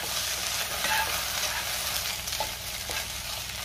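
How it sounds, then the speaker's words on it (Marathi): Okra is stirred with chili powder and chaat masala in a pan on the stove, giving a soft continuous sizzle with scraping strokes close by and no voices. "पुन्हा सगळं व्यवस्थित मिक्स करून घेऊया"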